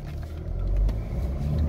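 A Chevrolet Captiva 2.2 diesel 4x4 SUV drives along with a steady low engine rumble and road noise heard from inside the cabin, swelling slightly midway as if accelerating, with no talking.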